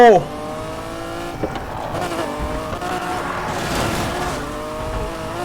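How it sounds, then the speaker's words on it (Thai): A modified pickup truck races in Need for Speed Heat, its engine whining through rising and falling gear changes with tire squeal and road roar. A voice speaks over it. "โอ้ยกระบะซิ่งทำไมมันแรงจัง"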